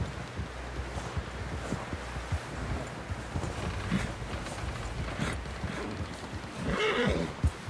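Horse in Red Dead Redemption 2 whinnies loudly near the end, over steady wind and clip-clopping hooves with rustling in the background.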